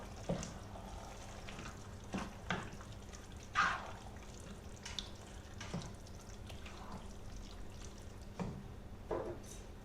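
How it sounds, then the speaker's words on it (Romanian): Onion and mushroom stew with tomato juice is stirred in a pot, giving faint, scattered scrapes and soft clinks against a quiet, bubbling background. "Amestecăm"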